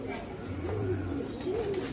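A red checker racing pigeon in a loft gives a soft, low coo lasting about half a second, faint beneath steady background noise.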